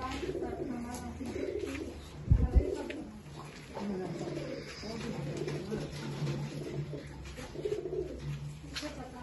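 Pigeons, old line birds kept at a home loft in Bangalore, coo in low throaty murmurs through the scene, with a brief louder thump partway and people talking nearby.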